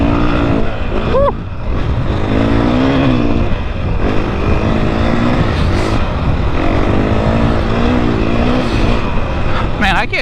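A 2021 KTM 500 EXC-F street-legal dirt bike ridden along a trail, its engine droning loud and close from onboard with shifting revs, a voice briefly heard over it.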